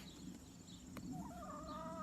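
A chicken clucks and warbles faintly in the distance on a homestead over a low outdoor hum of distant highway, with a brief click partway through.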